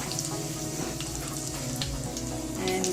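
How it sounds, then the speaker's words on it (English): Steady sizzling of sliced onions frying in hot oil, continuous and close, with a faint watery crackle throughout and no talking. "the onions were frying in the oil for some time"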